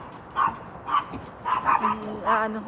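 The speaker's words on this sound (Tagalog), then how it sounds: "Narinig niyan ang iingay ng mga asungot kong mga aso" Several dog barks and yips at a moderate distance, coming in short irregular bursts with pauses between them.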